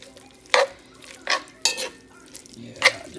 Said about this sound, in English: go ahead and take it and stir it to kind of